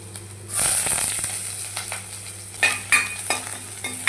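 Ginger, garlic and onion frying in a pan for prawn curry, a close hissing sizzle with clinks and scrapes of a spoon stirring, louder bursts as pieces are tossed in.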